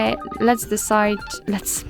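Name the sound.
Realme 12X phone ringtone playing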